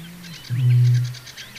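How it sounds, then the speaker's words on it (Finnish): A bird's booming courtship call rises from a reed bed at Siikalahti on Lake Simpelejärvi, a single deep resonant boom lasting about half a second, loud and close, with faint chirps of other birds around it. "Muhkea soidinlaulu paljastaa haaremin keruun olevan meneillään."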